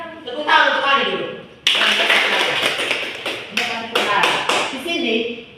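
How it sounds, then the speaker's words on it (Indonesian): Children in a primary school classroom break into applause, a burst of dense clapping that begins sharply and carries on for several seconds, with the teacher's voice heard before it starts. "Tepuk tangan untuk Ali dulu."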